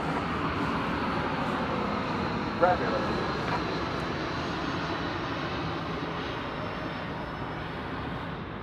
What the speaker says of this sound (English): a flight coming in from Cancun, an Airbus A321, American Airlines Flight 1750, right here on Runway DFW